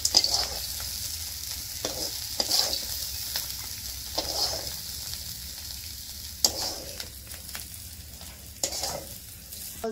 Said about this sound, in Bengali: একদম বেশি করে ভাজা করছি